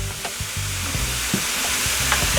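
Beef frying in a pan with cayenne pepper, a steady sizzle broken by several scraping stirs of a utensil, close and moderately loud.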